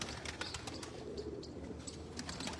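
Pigeons on a rooftop in Chak Jhamra, Faisalabad, soft cooing and wing flutters over a low, even background hum, faint and at a moderate distance.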